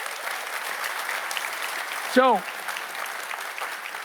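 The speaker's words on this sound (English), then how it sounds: "Give them a warm round of applause." Sustained audience applause at a corporate manufacturing awards ceremony, a steady wash of clapping under a brief spoken word from a presenter.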